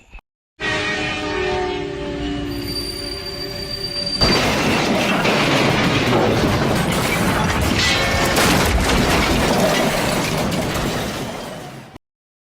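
Train sound effect for a staged emergency alert scenario about a train crash: a loud, continuous rumble of rolling rail cars and wheels that starts abruptly, swells into a dense roar with screeching, then cuts off sharply.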